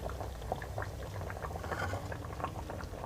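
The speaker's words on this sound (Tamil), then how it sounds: "இப்போ தேங்காய் ஊற்றி நல்லா கொதித்து வந்துருச்சு பாருங்க" Tamarind curry with chickpeas, brinjal and coconut boiling in a pot, a dense close bubbling and popping that holds steady throughout with no voices.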